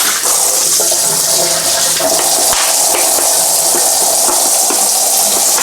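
Hot water gushes loudly and without a break over coffee machine parts being rinsed, a close and steady rush of running water with small clatters of parts underneath.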